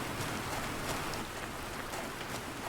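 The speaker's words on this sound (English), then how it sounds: "Rain's not an easy thing to do in games." Steady rain in the video game Planet Crafter, a dense even hiss of falling drops that continues without breaks and without voices.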